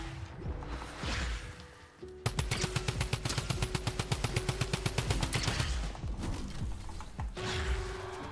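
Fortnite gunfire rattles in a long rapid-fire stream of loud, evenly spaced shots, framed by shorter blasts and clatter before and after, close and dense with no talk.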